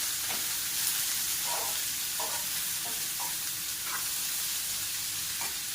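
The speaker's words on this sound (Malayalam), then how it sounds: "അപ്പൊ അതും കൂടെ നമുക്കൊന്ന് ഈ എണ്ണയ്ക്കകത്തൊന്നും ഇങ്ങനെ വരട്ടിയിട്ടേ" Sliced vegetables with curry leaves fry in hot oil in a pan, giving a continuous sizzle with several distinct stirring scrapes spaced through it and no speech.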